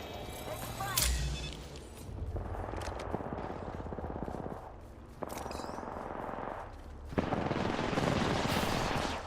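Automatic gunfire in Apex Legends: rapid sustained bursts of shots broken by brief pauses, with sharp cracks and whooshing effects layered over game sound, fairly loud and close.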